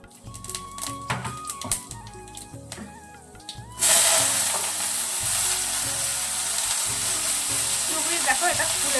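Vegetables dropped into a very hot wok (kadai) burst into a loud, dense sizzle that holds steadily, after some clattering and stirring of the pan at the start.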